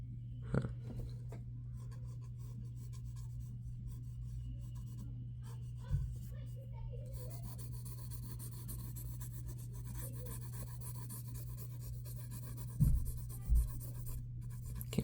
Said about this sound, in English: Can you hear the pencil sound?